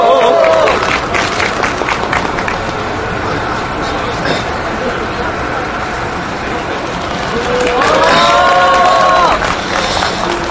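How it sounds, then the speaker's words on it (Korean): Applause and crowd noise at an outdoor rally against the Korea–US FTA, welcoming the railway union chief to the stage. Steady, dense clapping from a large crowd runs throughout and swells near the end, with voices mixed in. "박수 부탁드리겠습니다."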